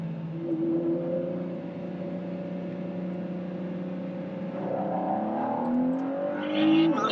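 The supercharged engine of a 2021 Ford F-150 holds a steady drone, then its revs rise sharply on a downshift, heard up close and loud with a supercharger whine.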